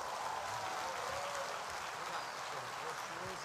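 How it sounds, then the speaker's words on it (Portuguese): Audience applause welcoming a pastor at a church service, a steady dense clapping wash filling the whole moment at moderate distance, with no voices over it. "Vamos recebê-lo aqui com aplauso."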